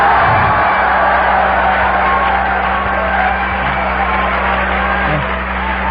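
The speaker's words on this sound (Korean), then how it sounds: "이번에는 함성과 함께 박수를 한번 해보겠습니다" An audience at a Korean Nu Skin business seminar cheers and claps, a loud, sustained roar of shouting and applause that swells evenly for several seconds with no distinct speech.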